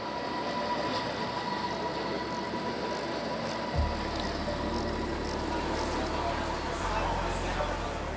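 A Swiss mountain railway train on the Gornergrat line rumbles past at close range, a continuous low roar with a steady hum of overhead wires, growing heavier partway through and continuing to the end.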